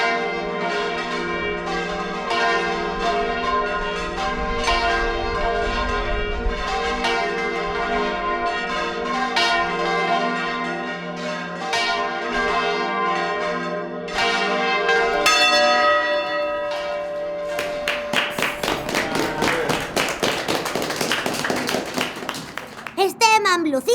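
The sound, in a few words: church bells rung in the Albaida bell tower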